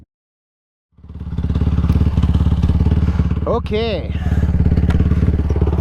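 A XTravel TRX450R quad's engine starts up and runs steadily during a test ride, a loud, even throbbing that continues to the end, with a brief spoken word and short talk over it.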